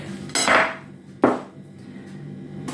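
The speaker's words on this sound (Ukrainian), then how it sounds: "І зараз ми будемо з вами нарізати перчик." A knife cuts a bell pepper into strips for a festive salad, giving two distinct close chopping knocks on a board, about a second apart, with quiet handling between and no talk.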